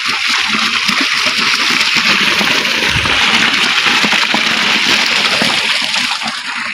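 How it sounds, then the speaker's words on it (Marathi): An electric water pump motor runs in a farm field while water gushes and splashes out into the crop beds, a loud, steady rushing torrent that continues unbroken from start to end. "बघा मोटर चालू केलेली आहे पाणी सकाळीच लावलं होतं"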